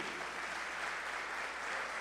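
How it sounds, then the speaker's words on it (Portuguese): A church congregation applauds during a celebration service, making a faint, continuous, even patter of many hands that sounds distant. "Aplauda ao Senhor Jesus Cristo."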